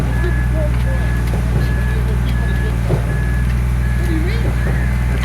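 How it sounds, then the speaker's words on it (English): Trucks pulling into a construction site for garage footings, a loud steady engine rumble under a regular repeating reversing beep, with a couple of voices talking over it. "Oh shit, there's a fourth truck coming around the bend"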